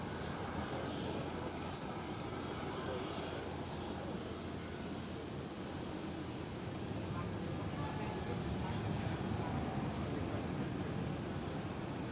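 A Transavia Boeing 737 airliner at Schiphol Airport gives off a steady, distant jet roar, a constant broadband rumble that holds at an even, fairly faint level throughout.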